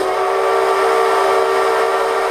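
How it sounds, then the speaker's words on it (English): A rebuilt Lima five-chime steam whistle on Sierra Railway No. 3 blows one loud, sustained note, choked and breathy as though flooded with steam, never opening into a full chord. "The whistle sounded as if it were drowning in steam and never developed its full sound."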